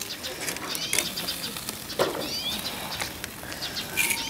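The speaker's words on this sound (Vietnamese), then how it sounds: "Mọi người có nghe cái tiếng chim nó kêu không?" Small birds chirp in short repeated bursts at a campsite outdoors, fairly distant and light over steady rustling background noise.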